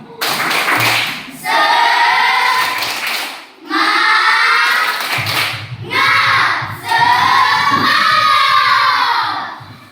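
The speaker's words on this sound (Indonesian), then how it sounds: "Anak-anak, mari kita melakukan tepuk semangat." A class of children does a rhythmic spirit clap, chanting loudly in unison in three or four strong bursts punctuated by claps, close and energetic, with short pauses between phrases.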